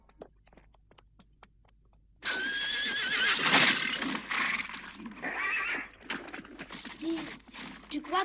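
A wild horse in a cartoon gives a loud, drawn-out whinny after a few soft hoof clops, the neigh rising and wavering for several seconds.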